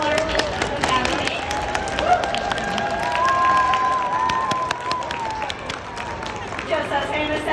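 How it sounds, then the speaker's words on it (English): Audience at a sea lion show claps and cheers for a family, lively applause mixed with crowd babble and a voice over an amplified sound system, with sustained tonal music-like lines underneath. "Round of applause for our largest family."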